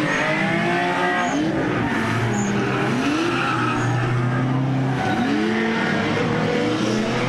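Loud race cars roar past on a racetrack, with engines revving and rising and falling continuously and no pauses.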